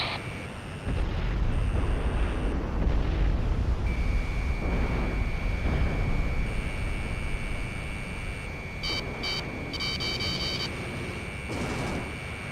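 Missile fire and explosions in the jet combat game Ace Combat 6: a heavy roaring rumble of jet engines and blasts, with steady tones and short repeated warning beeps layered on top.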